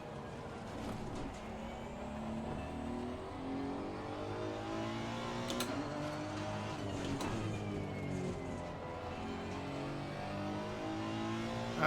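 A Honda NSX race car in Assetto Corsa Competizione drones steadily through continuous engine note with shifting harmonics, loud and unbroken for the whole stretch, with no talking.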